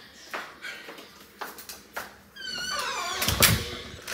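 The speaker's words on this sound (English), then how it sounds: "Let me close the door." A door is shut indoors, with a few soft thumps and knocks leading to a louder closing thud and a brief rattle near the end, no voices.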